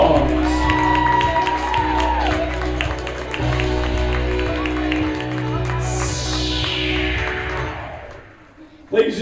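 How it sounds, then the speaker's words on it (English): A baseball crowd at a Bowie Bulldogs home game against Johnson cheers, whoops and applauds in a dense, sustained roar that carries on steadily for several seconds before tapering off at the end. "please give a round of applause to the rest of your Bowie"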